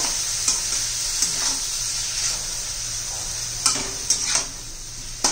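Bitter gourd sizzles steadily in a hot pan for a Marathi-style spicy karela dish, a continuous bright crackle broken by a few sharp stirring scrapes, with no voices.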